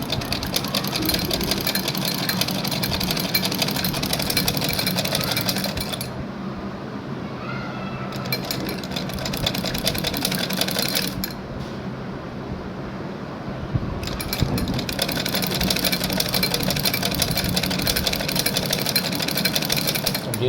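A sewing machine stitches a shirt cuff in loud, rapid, whirring runs close by, pausing twice briefly before starting again.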